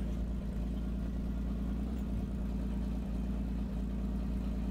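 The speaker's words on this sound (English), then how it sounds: "It's a farmall 560, but it's a series." Farmall 560 tractor engine in the Farming Simulator 19 video game, a steady, continuous low idling rumble that holds loud and unchanging throughout with no talk over it.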